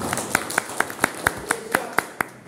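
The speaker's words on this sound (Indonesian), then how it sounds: "Tepuk tangan untuk Mas Zaki." Audience at a regional Pemuda Muhammadiyah leadership address claps in unison, about ten sharp, evenly spaced claps in a steady rhythm, fairly close and clear, with a little background murmur.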